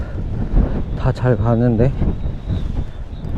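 Strong gusty wind on the cliff path to the Shakotan viewpoint at Cape Kamui buffets the microphone with a constant low rumble, while a person talks close by.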